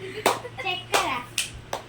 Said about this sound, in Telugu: క్లాప్స్ కొట్టుర్రి